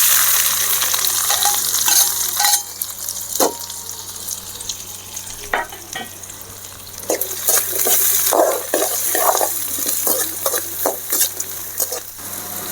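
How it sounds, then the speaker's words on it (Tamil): Small onions tipped into hot ghee in a pan for a mutton ghee roast sizzle steadily, with clear stirring scrapes and clinks of the spoon against the pan. "இந்த சின்ன வெங்காயத்தையும் நம்ம இதில் கொட்டிக்கலாம்"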